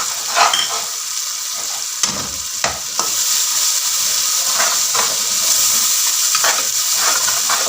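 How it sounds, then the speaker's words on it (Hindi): Spice masala of red chili powder, cumin and salt frying for a beef yakhni pulao, a steady loud sizzle with intermittent stirring scrapes throughout, no voices. "और इसको तकरीबन 2 से 3 मिनट तक इस मसाले को भूनना है"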